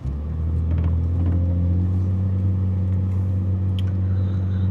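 A BMW E39 sedan drives along with a sluggish, slow-responding engine, giving a steady low engine drone and road rumble from inside the cabin that stays constant throughout, with no talking.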